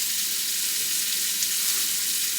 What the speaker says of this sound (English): I'll throw this in to start browning this up